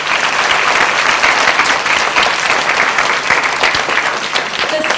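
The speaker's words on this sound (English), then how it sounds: "So give yourselves a round of applause" Students applaud at a Rochester City School District awards event, a dense, steady wash of clapping from a large group that holds loud and even for the whole stretch.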